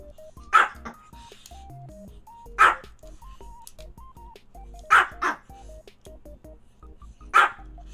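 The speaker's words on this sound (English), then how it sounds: "this dog is also like barking at me" A dog barks close by in four loud, separate bursts spaced a couple of seconds apart, with a quieter electronic melody playing underneath.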